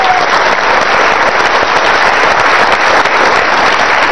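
Studio audience on a Pakistani comedy talk show breaks into loud, dense applause, a continuous wash of clapping that stays strong and steady with no voices over it.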